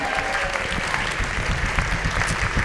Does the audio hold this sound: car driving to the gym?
no